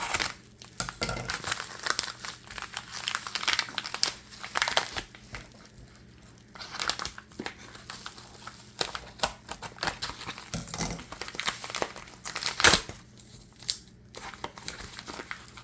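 A taped paper envelope being worked open by hand, with very sticky tape: close crinkling, rustling and tearing of paper and tape in irregular bursts throughout, with a sharper rip near the end.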